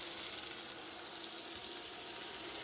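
Food frying in hot oil, a close, continuous hissing sizzle that stays steady and even throughout, with no voices.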